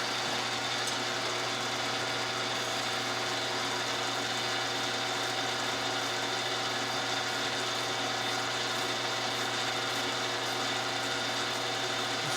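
Lapping tool grinding a part during a 1961 Harley-Davidson Sportster XLCH motor rebuild, a steady, quiet, continuous mechanical whir with faint ratcheting texture, unbroken for the whole stretch.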